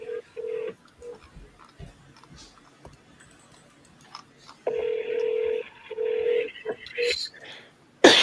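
A phone call being dialed and routed to voicemail: a steady ringback tone comes in bursts near and loud, then a long tone, with clicks, short beeps and a brief burst at the end.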